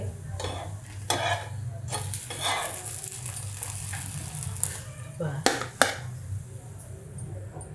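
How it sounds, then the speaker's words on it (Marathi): Poha and rava being dry-roasted in a pan for a quick snack, with repeated scraping stirs and a faint sizzle running under a low steady hum, a few sharper utensil scrapes near the end. "असं खरपूस भाजून घ्यायचं"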